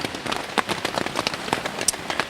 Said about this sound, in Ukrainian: іде дощ і не хочу намокнути